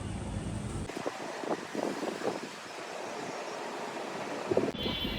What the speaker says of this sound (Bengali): এই যে কত বাতাস